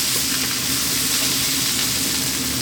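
Chili powder, turmeric, coriander and cumin powder being stirred into a hot frying pan for an eggplant brinjal masala, a loud, dense, steady sizzle close up with no talk.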